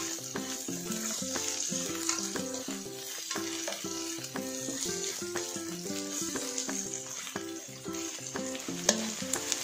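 Onion rings pan frying in hot oil, a steady close sizzle with a busy crackle and repeated stirring clinks throughout, no voices.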